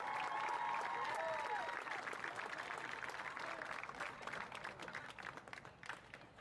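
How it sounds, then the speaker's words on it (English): A crowd at a state high school baseball championship applauds, clapping densely at first and then gradually thinning and fading away. "One more round of applause for these young men"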